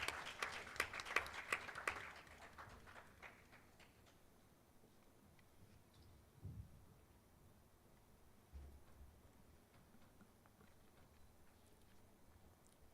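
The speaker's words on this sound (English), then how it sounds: "Round of applause for them as they come on up." An audience claps for pitch presenters at a digital transformation summit in Diani. The applause is dense and fairly loud for about two seconds, then quickly dies away into quiet room noise with a few faint knocks.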